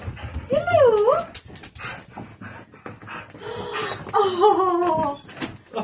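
A dog whines in excited, wavering whimpers, first one long whine and then a series of shorter ones, with quick panting breaths in between. People murmur nearby.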